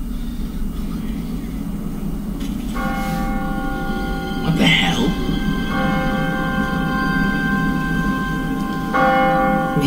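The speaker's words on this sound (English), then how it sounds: "No one's ringing that bell. It's automatic. On a timer. What kind of church bell goes off at 20 past the hour?" An automatic church bell in The Walking Dead video game tolls repeatedly, its ringing tones rising over a low outdoor rumble, and someone speaks briefly between the strikes.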